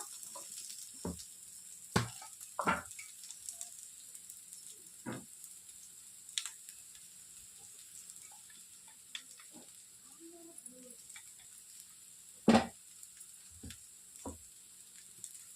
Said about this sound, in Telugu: ఇప్పుడు మసాలా అంతా బాగా కలిసేలా ఒకసారి కలిపేసుకొని